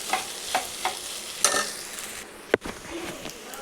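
Pasta being stirred in an oily pan, with a soft sizzle under a few scattered spoon scrapes and clinks, one sharper knock near the end, quiet and with no talk.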